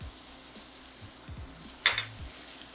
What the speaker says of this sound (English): So we can just stir this up and let these start to cook through.